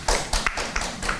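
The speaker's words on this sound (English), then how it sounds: "Let's clap for him." An audience at a political party event claps for a visiting Member of Parliament, giving a brief, close burst of several sharp, uneven claps.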